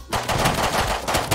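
Rapid automatic gunfire in a survival crafting video game, a dense stream of loud, close shots with no pause.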